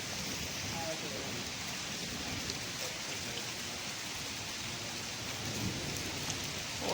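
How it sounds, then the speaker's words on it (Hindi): Hailstones fall steadily onto brick surfaces outdoors, a constant dense rattling hiss that stays even and moderately faint throughout. "ओले ही है न बरा दे, बरखा नहीं है, ओले ही है न"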